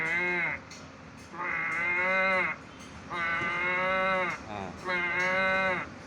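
A person imitates a young buffalo calf lowing, giving three long, drawn-out, strongly voiced bleating moos separated by short pauses, close and loud with no other sounds.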